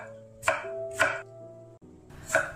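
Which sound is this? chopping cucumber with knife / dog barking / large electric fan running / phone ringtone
chopping cucumber with knife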